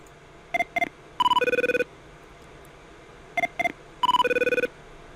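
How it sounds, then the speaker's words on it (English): A phone ringtone plays twice: two short chirps followed by a longer warbling trill, repeating after a brief pause, clear and close. "the ringtone here. So if I play this file"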